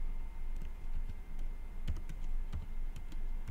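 Computer keyboard being typed on while working in an Excel sheet, with faint, scattered key clicks over a low room hum and no speech.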